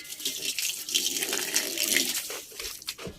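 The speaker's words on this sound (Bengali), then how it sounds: "জল ভরা হচ্ছে।" Tap water runs steadily into a container on a sunny rooftop, a continuous close hiss and splash with slight shifts in tone as it fills.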